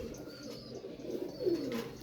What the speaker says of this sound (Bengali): এটা হচ্ছে কামাগার নর কবুতর